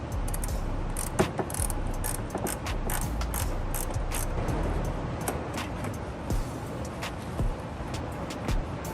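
A ratchet loosening a 10 millimeter clamp on a Mk4 Toyota Supra during a fuel pump upgrade, with bursts of quick mechanical clicking close up and light metallic handling noises between them.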